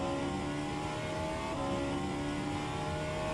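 The Vanwall Hypercar's engine drones loud and steady in rFactor 2 at Sebring, holding a constant high rev with slight pitch shifts and no pause throughout.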